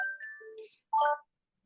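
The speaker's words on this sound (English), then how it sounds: "oh, my phone is ringing" A mobile phone rings indoors with a short electronic ringtone of a few clear, bright melodic tones in two quick bursts, fairly close and alone without talk.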